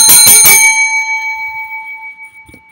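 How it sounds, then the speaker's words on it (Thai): A bright bell notification chime rings in about three quick strikes, then its metallic tone rings out and fades over a couple of seconds, loud and close. "Subscribe กดกระดิ่ง YouTube เราด้วยนะ"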